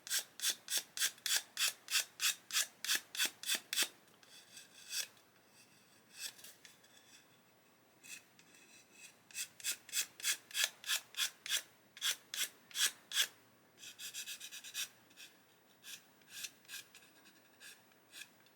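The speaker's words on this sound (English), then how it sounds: "just gently stroking the sanding stick" A sanding stick is stroked back and forth over a plastic part of an Airfix 1/72 Hurricane Mk.1 model kit, making close, quiet, rhythmic rasping strokes in quick bursts separated by short pauses.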